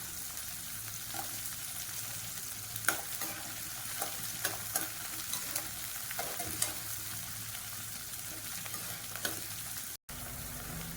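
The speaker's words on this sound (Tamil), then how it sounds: "இப்போ இந்த வெங்காயம் இந்த மாதிரி வதங்கிட்டு இருக்கும்போது ரொம்ப கருகிய வதங்க வேண்டாம்" Onions, garlic and green chillies sauté in an oily pan with a steady soft sizzle, punctuated by light scraping clicks from stirring that recur every second or so, close and unaccompanied.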